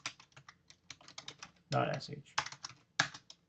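Keys clatter on a computer keyboard as a Linux shell command is typed, a quick irregular run of close taps with a denser burst midway, under brief soft speech.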